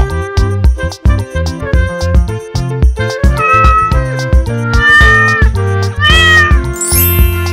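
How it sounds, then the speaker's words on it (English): Cat meows sound in a children's alphabet song, set over a steady bouncy backing beat; the repeated calls ride on the music rather than standing alone, with no talking. "Cat,"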